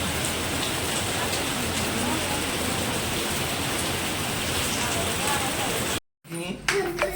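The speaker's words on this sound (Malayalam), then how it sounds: "നല്ല തകർത്തിട്ട് മഴ വരും." Heavy rain pours in a steady, loud, close hiss for about six seconds, then breaks off briefly before coming back with some faint background sounds.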